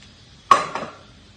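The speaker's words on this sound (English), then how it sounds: "a decent sized cooking pot" A decent-sized cooking pot and kitchen utensils clank together in two quick metallic knocks, the first sharper, close by and with no talk.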